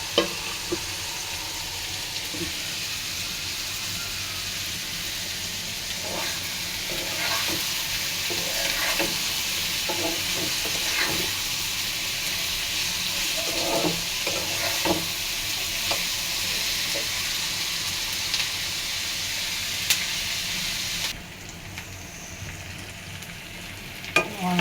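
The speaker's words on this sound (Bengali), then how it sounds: "এখনো পেঁয়াজটা ভাজা হয়নি" Onions fry slowly in a pan over a low gas flame, giving a continuous close sizzle broken by occasional stirring scrapes, then dropping slightly quieter near the end.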